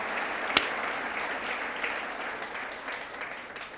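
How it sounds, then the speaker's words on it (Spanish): Church congregation applauding during a Spanish-language sermon, a soft, diffuse patter of clapping heard from a distance, with one sharp close clap near the start. "Denle un aplauso al Señor, porque estamos en el reino de Dios"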